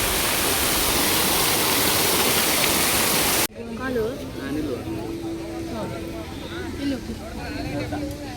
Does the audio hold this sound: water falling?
yes